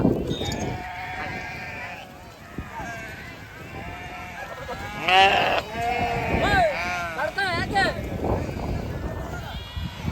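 A large flock of about three hundred sheep bleats repeatedly and overlapping, close and loud, with people talking throughout among the animals.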